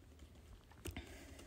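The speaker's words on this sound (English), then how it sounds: "I'm typing" Soft keystrokes on a computer keyboard, faint and sparse, with a couple of slightly sharper clicks near the middle over quiet room tone.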